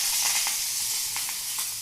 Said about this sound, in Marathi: आता भाजीला फोडणी द्यायची आहे.